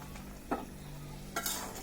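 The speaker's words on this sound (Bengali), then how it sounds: "সেই ভাজা মাছগুলো এর মধ্যে দিয়ে দিব।" Fried tangra fish stirred into a simmering curry in a pan, two brief scraping stirs with a soft sizzle between them, close and fairly quiet with no voices.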